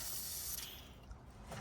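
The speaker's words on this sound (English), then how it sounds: "I'll spray it once more just to help it loosen up and slip out of there" A short, close hiss of a penetrating oil aerosol can spraying a bolt on a Land Rover Discovery 2, tapering off after about half a second, then a faint second puff.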